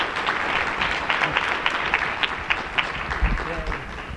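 People attending an education presentation applaud the speaker, a crisp patter of clapping with distinct individual claps over a low murmur, ending as a voice starts speaking near the close.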